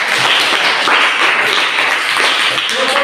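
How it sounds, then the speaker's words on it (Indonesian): Classroom students applauding a group of classmates, a loud, continuous patter of many hands clapping close by, sustained evenly throughout with a few voices mixed in. "Buat tepuk tangan untuk kelompok 1 dulu"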